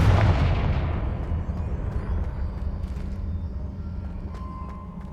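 Confringo fire spell explosion in a Harry Potter video game: one loud, deep blast hits right away, then a heavy rumble slowly decays over several seconds with faint crackles and scattered debris sounds.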